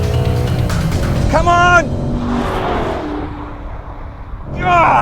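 A 2019 Ford Mustang GT PP2 and a Chevrolet Camaro SS 1LE accelerate hard in a half-mile drag race on a track, engines heard from inside a car, loud and revving through gear changes, with excited talk over them.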